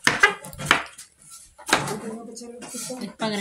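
Tomato, green chili and onion being chopped on a board in a home kitchen, a few sharp close knife knocks in quick bursts, mixed with people talking.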